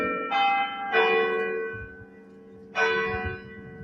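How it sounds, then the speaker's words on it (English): Bells of Bradford City Hall's clock tower ring out the hymn Abide With Me and another tune, sounding loud and resonant with long ringing decays. Three separate strikes are spaced across the passage, and no voices are heard. "The ceremony started with the City Hall clock bells playing Abide With Me"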